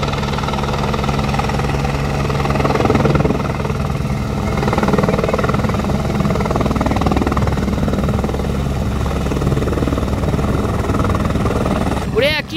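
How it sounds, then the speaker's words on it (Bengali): A helicopter descends to land at a mountain helipad on the Kedarnath trek route, its rotor and engine roaring loud, steady and close with strong wind buffeting the microphone throughout. "হেলিকপ্টার ল্যান্ড হচ্ছে, দেখো এরমভাবে সিগন্যাল দেওয়া হবে, আর এইগুলো হেলিকপ্টারটা এইভাবে এসে ল্যান্ড হবে।"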